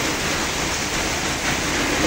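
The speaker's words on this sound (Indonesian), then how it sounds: "sini hujan deras banget tuh" Heavy rain pouring down outside an aquarium fish shop building, a dense, steady broadband hiss with no break, loud and close, no voices.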